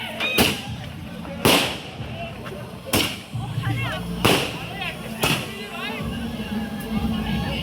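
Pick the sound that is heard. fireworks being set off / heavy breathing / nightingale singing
fireworks being set off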